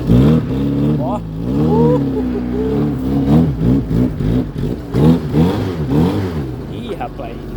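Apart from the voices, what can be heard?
Fiat 147 pickup engine revving with one wheel spinning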